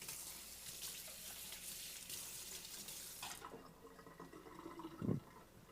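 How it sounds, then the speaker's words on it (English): Tap water runs into a kitchen sink to rinse a container, a soft steady splashing stream that cuts off partway through, followed by a faint clunk, quiet and close. "Just gonna rinse this out a little."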